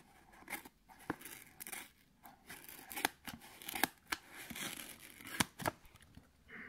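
Scissors cutting open a plastic evidence package, with crisp snips mixed with crinkling and tearing of the packaging in an irregular run of close, quiet bursts, intimate ASMR-style with no talking.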